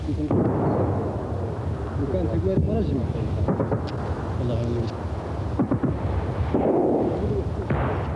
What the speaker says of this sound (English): The wall is an easy target for Polisario mortars fired from a concealed valley.